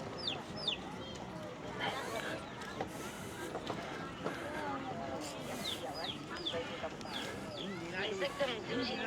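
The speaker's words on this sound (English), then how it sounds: "chickens chirping away" Live chickens offered as prizes at a nighttime kids' activity area by a lake in Yunfu, China cluck and squawk repeatedly amid crowd chatter and busy background noise, with sharp calls cutting through several times.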